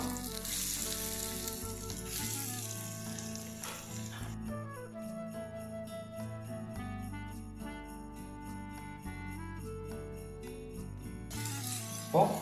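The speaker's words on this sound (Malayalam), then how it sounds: "എണ്ണ ചൂടായിട്ടുണ്ട് ഇനി നമുക്ക് ഓരോ പീസായിട്ട് ഫ്രൈ ചെയ്ത് വെച്ച് കൊടുക്കാം" Boneless chicken pieces shallow frying in hot oil give a continuous, close sizzle with crackling bursts, settling into a softer steady fry, then flaring up loudly again at the end.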